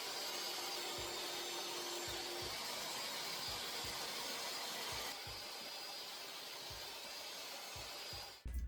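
A power saw cuts 1/4 inch MDF into 12 by 2.5 inch strips, a steady loud whine with a brief tone shift halfway through and the motor winding down at the end.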